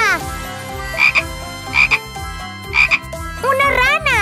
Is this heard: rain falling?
no